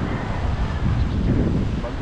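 Strong storm wind gusts and roars past the microphone, a low, buffeting rumble that swells and eases over a couple of seconds, close and fairly loud, with no voices.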